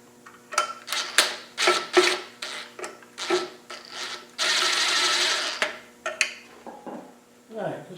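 Electric gun winding down bolts, threaded with Loctite and spring washers, on a 300Tdi engine of a white Land Rover 90 during an oil leak fix; several short close whirring bursts with clinks, then one longer steady run.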